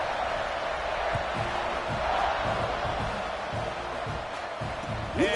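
Stadium crowd roaring steadily throughout a Texas A&M college football video game, a broad sustained wash of cheering with faint thumps underneath and no clear pauses.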